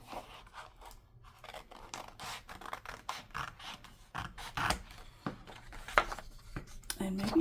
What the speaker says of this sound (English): I'm going to grab my scissors. I'm going to cut out one of these labels here.